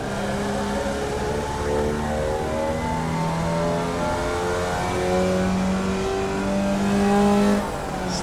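A Rookie Formula open-wheel race car in iRacing accelerates steadily through the gears, its engine note climbing and shifting in repeated rising sweeps, loud and continuous for the whole stretch.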